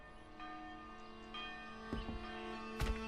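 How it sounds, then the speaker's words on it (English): In the Manor Lords village-building game, a bell chimes faintly through a quiet, humming background, with a few soft strikes whose ringing tones decay slowly. The last strike is slightly louder. "Oh, I do like that bell sound."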